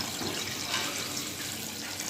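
Water being poured into a pot of cooking meat and potatoes, a continuous splashing, rushing pour for about two seconds, close and fairly soft, with no talking.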